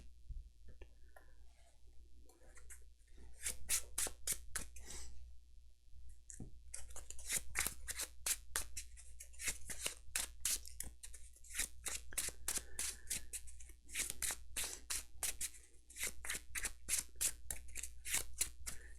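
Arkham Horror LCG playing cards are riffle-shuffled close by in repeated bursts of sharp, rapid flutters, with quiet pauses between the bursts.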